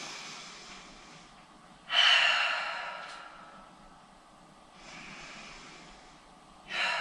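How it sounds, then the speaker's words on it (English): Deep yoga breaths held in a warrior two pose, two strong airy inhales or exhales near the microphone with softer breathing between, no talking. "Let's take two more deep breaths here."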